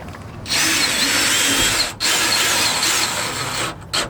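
A power tool drives threaded bolts into a truck bed mount, loud close bursts of motor whir and ratcheting, one long run broken by a short pause, then a tight final blip as the bolt seats.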